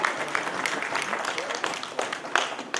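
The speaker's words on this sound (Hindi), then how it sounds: "और एक बार जोरदार तालियों से इनका स्वागत किया जाए" An audience gives a speaker arriving on stage a warm welcome with applause, a dense, even clapping that holds steady throughout with a few sharper claps standing out.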